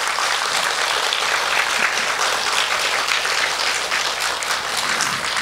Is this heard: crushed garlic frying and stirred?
no